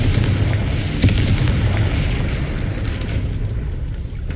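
Confringo spell blast in Hogwarts Legacy, a loud booming explosion with a sharp crack about a second in, then a rumbling, fading roar, no voices.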